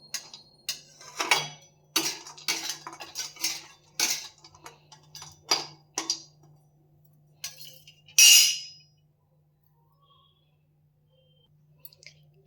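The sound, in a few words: stirring dried dates in a hot frying pan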